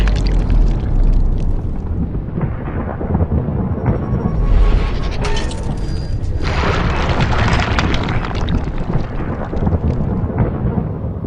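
A shotgun loaded with double-aught buckshot is fired at a watermelon, giving heavy booming blasts with a rumbling, roaring tail that fills the whole stretch, loud and close.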